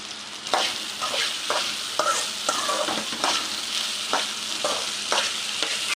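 Okra sizzling and frying in hot oil with salt, a steady bright crackle alone with repeated scrapes and stirs of a spatula through the pan.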